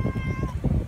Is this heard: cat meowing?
yes